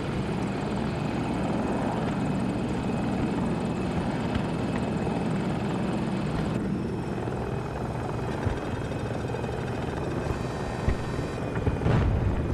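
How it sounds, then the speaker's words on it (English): A helicopter in a squad shooter video game roars continuously with a dense rotor and engine drone, loud and close throughout, with faint gunfire-like pops near the end. "All right, I've got the chopper."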